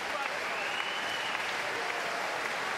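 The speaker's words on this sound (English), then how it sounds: "Generous applause around the D-side leisure centre here" Generous applause from a boxing crowd at a leisure centre after the final round of Sergey Rabchenko vs Bradley Pryce, a steady, even wash of clapping filling the hall without a break.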